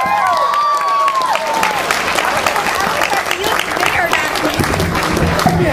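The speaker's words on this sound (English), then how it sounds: "A big round of applause." An audience at a community party bursts into sustained applause after a performance, with dense, continuous clapping and a few cheers running throughout.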